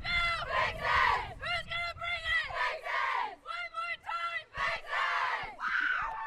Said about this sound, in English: that was Vixens' cheer